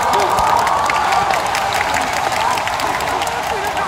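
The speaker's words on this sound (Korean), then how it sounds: "큰 박수 부탁드리겠습니다" Loud, sustained applause from a large crowd, dense and steady clapping with some cheering mixed in, filling the whole stretch.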